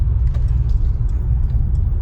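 Mercedes-AMG C43 cruising smoothly in comfort mode, giving a steady, continuous low engine and road rumble with no jolts or surges, heard alone without talk.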